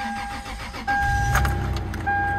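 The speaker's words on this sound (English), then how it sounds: "I gotta warm the old truck up." Old pickup truck idling as it warms up on a cold morning: a steady low engine rumble with a thin mechanical whine, close by and fairly even, rising slightly partway through.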